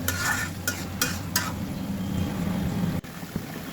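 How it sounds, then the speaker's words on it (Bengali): New potatoes being sautéed in a pan give off a steady sizzle, opening with a few sharp spatula scrapes against the pan before settling into continuous frying, close by and without speech. "আলু দিয়ে কষাবো"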